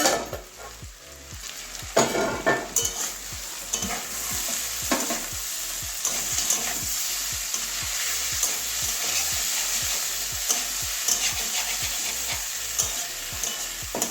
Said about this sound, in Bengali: আরও দু তিন মিনিট ঢাকা দিয়ে দিয়ে ভাজবো